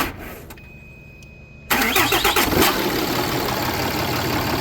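A Dodge truck engine, started by jumper wire to bypass a faulty ignition key module, cranks briefly and catches, then runs on at a loud, steady idle after a quiet stretch.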